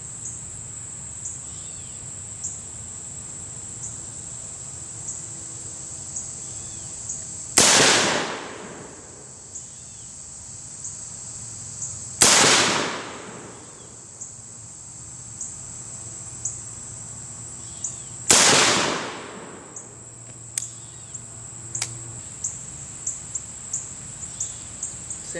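Three sharp, loud rifle shots from an LWRC M6 A2 ring out several seconds apart at an outdoor range, each with a decaying echo, over a steady high insect buzz.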